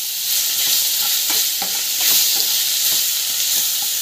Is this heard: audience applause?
no